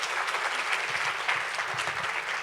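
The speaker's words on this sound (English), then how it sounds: "Will you all please give her a round of applause?" Audience at a women's political engagement conference gives a steady, full round of applause that holds evenly throughout, with no speech over it.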